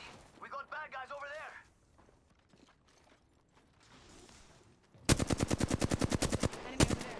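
Rapid automatic gunfire in the shooter game Apex Legends, a loud, fast, evenly spaced burst of shots with a couple of trailing rounds, preceded by a brief voice and quieter in-game movement.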